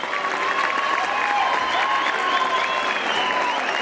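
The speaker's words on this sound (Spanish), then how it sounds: "regálenme un aplauso al señor Hugo Figueroa" A rodeo crowd at a bull-riding event in San Francisco Huamuchil, Oaxaca, applauds and cheers in a dense, steady wash of clapping and shouts from a large audience, loud and continuous throughout.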